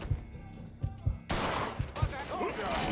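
Gunfire in the video game Mafia III: several sharp, low thumping shots in an uneven rhythm, then a louder, denser burst of shooting that fills the rest of the moment amid busy game sounds.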